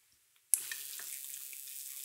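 Water gushes steadily from a tap into a storage tank for a water level controller, starting abruptly after a short quiet and running continuously and close by.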